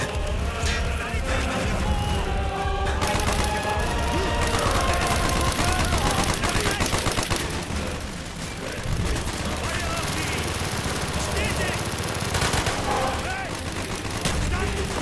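Machine gun fire and explosions in the Call of Duty: Black Ops Project Nova mission, with loud, dense bursts of rapid shots that carry on almost without pause and end in heavy booms.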